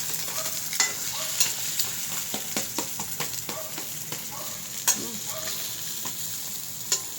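An egg fries in a pan with a steady soft sizzle, broken by sharp clicks and scrapes of a utensil stirring it, close and fairly quiet.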